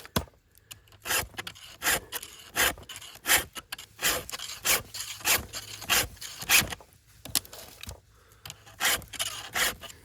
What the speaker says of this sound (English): grab a couple stumps or cutoffs and sharpen your chain on them